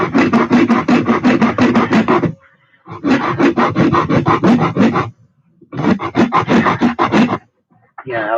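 Wood is sanded with a worn sanding sponge in three loud, close bursts of quick back-and-forth rasping strokes, separated by short pauses.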